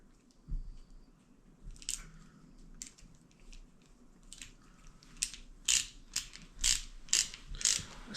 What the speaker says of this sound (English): Got a different screwdriver set here.